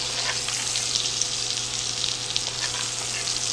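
Steak frying in a pan with melting garlic butter spooned over it, giving a continuous even sizzle with fine crackling, moderately loud and without any voices.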